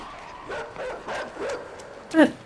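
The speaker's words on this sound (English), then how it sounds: "That's a bad doggy." An attack dog barking in a horror game, four or five short yelping barks spaced apart, the last one loudest, while a person talks nearby.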